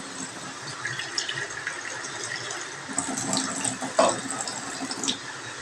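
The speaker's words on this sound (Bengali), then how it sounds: "এখন আমি পরিমাণ মতন জল দিয়ে সবজিটা দিয়ে দেবো" Water is poured from a container into a cooking pot holding vegetables in a home kitchen, a close splashing gush that swells and fades, with clatter near the end.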